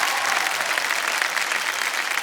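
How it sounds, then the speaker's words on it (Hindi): A television game show studio audience applauds in a dense, steady wash of clapping that holds at an even level from start to finish, with no talk over it. "तालियों के साथ उनका स्वागत किया जाए।"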